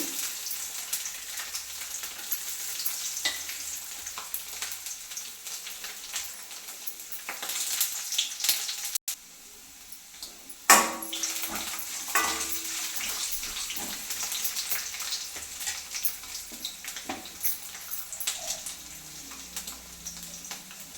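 Grated coconut, tomato and garlic sizzle in hot oil for a tempering, a steady crackling fry with occasional stirring clatter, close and continuous with a brief pause midway.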